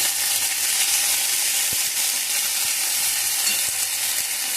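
Nigella seeds, green chili and ginger paste sizzle steadily in hot oil, a dense continuous frying hiss with a few soft spoon stirs and clinks, close and even throughout.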